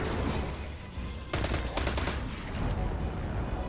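Auto rifle fire in the shooter game Destiny 2: rapid bursts of automatic gunfire crackle over a steady background, fairly quiet overall, with a sharper, louder burst partway through.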